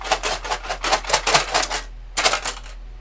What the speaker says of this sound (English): into my magic sticks here. Might get a little loud. I'm going to shake them up, see what pops out.